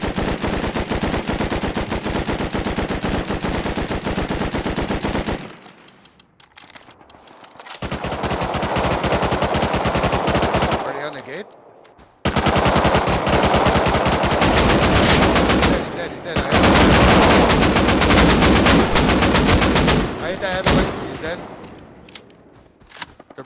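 AK assault rifle gunfire in the video game Rust on console, long loud sustained automatic bursts separated by short pauses, with faint background sounds in the gaps.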